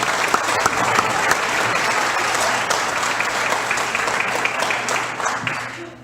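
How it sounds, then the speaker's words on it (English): Dinner guests at a county chamber of commerce membership banquet give a full round of applause. It stays loud and dense, then drops off sharply at the end. "How about let's get around the applause."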